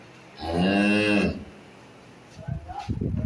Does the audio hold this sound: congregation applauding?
no